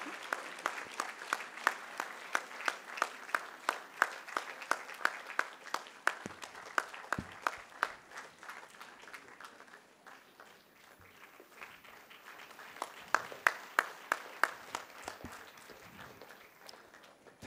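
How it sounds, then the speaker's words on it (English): Graduation-day audience at a medical college applauding an honoree, a steady wash of clapping with sharp individual claps standing out, easing off midway and then swelling again toward the end. "Please put your hands together to give a big applause to Mr. B.P. Ravindra."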